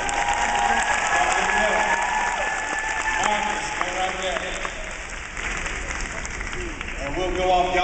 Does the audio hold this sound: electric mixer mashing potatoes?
no